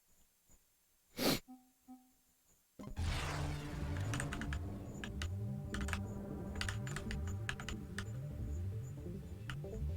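Rapid, continuous computer keyboard typing close to the mic while a space shooter game plays, following a brief sharp breath or sniff, with clicks rattling in quick uneven bursts throughout.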